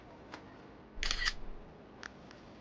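A single camera shutter clicks crisply, with a couple of faint clicks after it against a quiet background.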